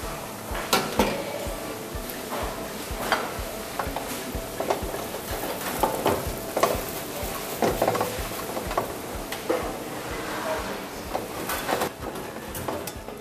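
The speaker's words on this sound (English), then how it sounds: "just a shallow frying, just a little bit of oil, not too much" Chicken slices shallow frying in a little oil, with a soft continuous sizzle broken by frequent clinks and scrapes of a utensil against the pan.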